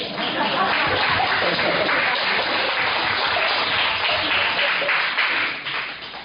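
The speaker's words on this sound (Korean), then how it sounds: "박수 한번 치세요" A church congregation breaks into loud, sustained applause, a dense wash of clapping that carries steadily and then thins slightly toward the end.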